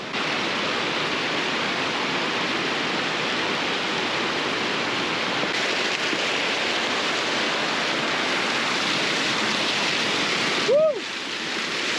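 A mountain waterfall in the Pyrenees near the Pic du Taillon makes a steady, loud rushing roar of falling water without a break, with a brief high whistle-like sound just before the end.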